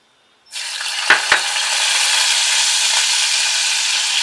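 Garlic, green chili and ginger drop into hot oil in a pan and burst into a loud, steady sizzle, with two sharp clinks near the start, then a constant close frying hiss.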